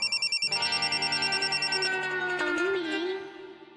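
A phone rings in a home scene with a call from mother: a fast electronic trill bursts at first, then a sustained tonal ringtone melody plays clearly and fades out, with no talking.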